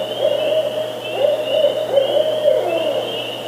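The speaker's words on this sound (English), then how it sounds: "you also have the barred owl, which makes the who cooks for you vocalization" Barred owl giving its rhythmic hooting call, a series of hoots rising and falling in a phrase over steady background hum, moderately loud and alone.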